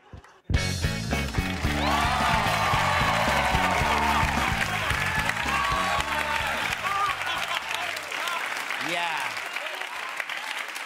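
Loud, full crowd applause with cheering bursts in right after a short silence to mark a magic trick finale, thick and sustained over a bed of music and a few voices.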